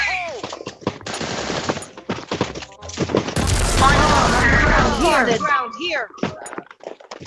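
Gunfire in the shooter game Bullet Angel, bursts of rapid automatic fire and single shots, loud and close, with excited voices talking and exclaiming throughout.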